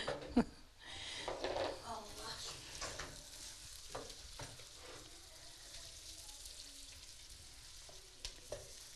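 Currants being stirred into butter frying in a pot, a soft steady sizzle with spoon scrapes and clinks, while people talk over it.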